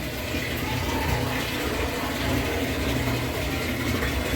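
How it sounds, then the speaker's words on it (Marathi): Tap water pours steadily into a household water storage tank, a continuous broadband gushing rush that stays close and fairly even throughout with no talk. "पाणी भरतं आहे ते बघा"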